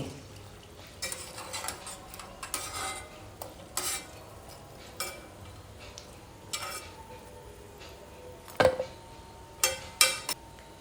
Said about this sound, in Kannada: ಉಳಿದ ಎಲ್ಲ ಸಮೋಸವನ್ನು ಫ್ರೈ ಮಾಡಿ ತೆಗಿತೀನಿ